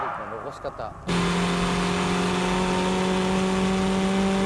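A drift car braking into a corner, a loud sustained engine drone with steady tones cutting in suddenly after a moment of quieter rumble, holding strong and close to the end.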